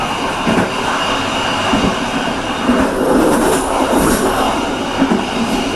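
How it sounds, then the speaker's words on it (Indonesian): The Matra Remaja train rumbles steadily past at close range through Sumberlawang station in Java, Indonesia, without stopping, wheels clattering and faintly squealing over the rails, loud and continuous throughout. "sebentar lagi kereta api Matra Remaja melewati langsung"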